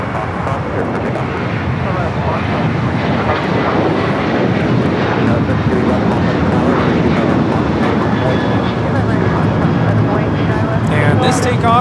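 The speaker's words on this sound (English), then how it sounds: "And this takeoff is American Airlines 2608 off to Austin, Texas. The 737-800." American Airlines Boeing 737-800 taking off from runway 25 at LAX, bound for Austin: a loud, steady broadband jet engine roar that holds for the whole stretch, with wind buffeting on the microphone.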